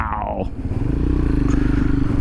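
A Royal Enfield Himalayan 462cc motorcycle tuned to 40 horsepower is ridden along. Its engine holds a loud, steady, throbbing note close to the listener, with a brief gear-change dip early on.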